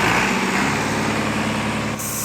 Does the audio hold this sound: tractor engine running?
yes